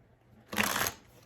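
A single short burst of tarot cards being riffle-shuffled, crisp and close, lasting under half a second amid quiet.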